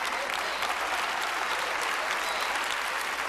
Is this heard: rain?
no